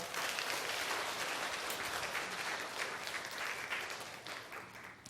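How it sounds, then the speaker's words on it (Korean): A church congregation applauds warmly and continuously during a Sunday service, a broad wash of many hands clapping together that gradually eases off toward the end. "돌아서서 한번 인사할 때 격려의 박수 부탁합니다"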